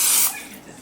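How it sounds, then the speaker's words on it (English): A short, close hiss of Pam olive oil cooking spray into a baking dish, a single burst fading within a fraction of a second. "I'm just gonna put a little bit of Pam. This is just a little bit of just olive oil cooking spray"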